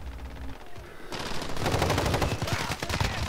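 Light machine gun fire in Call of Duty: Modern Warfare, a sustained rapid burst of close, loud shots kicking in after a quiet second and rattling on continuously to the end.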